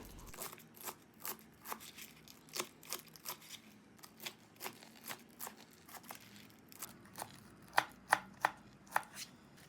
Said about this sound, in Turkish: Lahanayı orta büyüklükte doğruyorum.